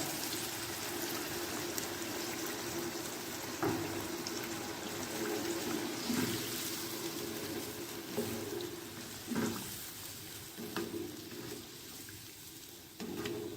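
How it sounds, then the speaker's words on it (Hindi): Water pours into a pot of sizzling fried eggs for a potato-and-egg curry, the gurgling stream blending with steady frying crackle and a few clinks, with no voices. "अब हम इसमें पानी ऐड करेंगे,"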